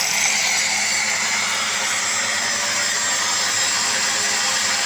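A homemade electric wood cutter runs continuously and close, giving a steady, loud whine with broadband hiss and no break or change in pitch.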